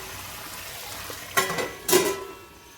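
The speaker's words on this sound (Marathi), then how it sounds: "हा बघा आपण अधूनमधून हलवून घेऊ" A spoon stirs chicken curry with onion, tomato and masala in a pan: a low background sizzle broken by two short scraping clatters near the end.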